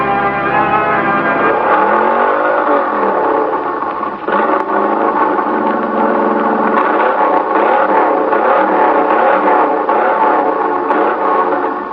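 A vintage radio-drama engine sound effect, a loud, steady droning motor that rises and pitches through throttle swells, with a few wavering surges and a brief dip midway, heard alone without voices.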